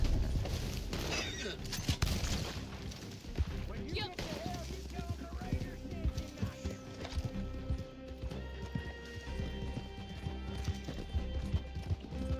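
Horse hooves clip-clop steadily in the Red Dead Online western game, mixed with occasional whinnies, distant gunfire and a continuous game soundscape, with a person talking over it.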